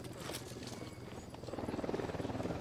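Helicopter flying in the video game Ghost Recon Wildlands, a rhythmic rotor chop that grows louder and more pulsing as it approaches, faint to moderate.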